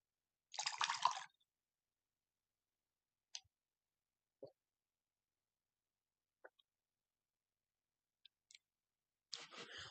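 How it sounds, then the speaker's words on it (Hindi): Someone pauses to take a few sips of water, giving a handful of soft swallowing and gulping sounds spread across quiet moments, with no talk over them. "यहाँ पे मैं थोड़ा सा पानी पी लूँ।"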